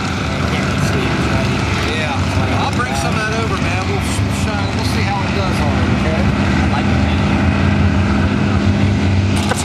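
A Pontiac race car pulls away at a sports park during tune and test night, steady loud engine roar filling the scene with people talking over it.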